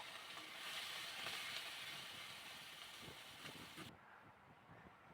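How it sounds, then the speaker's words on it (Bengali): Prawns fry in hot oil in a wok with a steady, soft, hissing sizzle and scattered small crackles; the high hiss drops away near the end, leaving a quieter bubbling. "কড়াইয়ের তেল গরম হয়ে গেলে ওর ভিতরে আমরা চিংড়ি মাছটাকে ভেজে দেব।"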